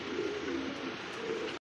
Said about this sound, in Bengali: দর্শক বন্ধুরা দেখতে পাচ্ছেন চমৎকার আরও জিরা ব্ল্যাক জার্মান বিউটিমা কবুতর